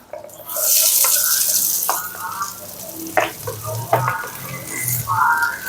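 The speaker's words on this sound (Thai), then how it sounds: "ผัดหอมใหญ่กับมะเขือม่วงก่อนนะครับ เพราะว่ามันสุกยาก" Onion and eggplant stir-fried in a pan, a steady close sizzle with scraping stirs and clanks of a utensil against the pan, no talking.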